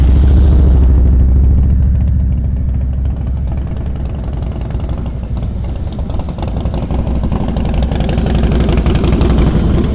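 Motorcycle engine idling and chugging at low revs during slow-speed riding practice, a loud close steady rumble with a slight swell at the start, no talk.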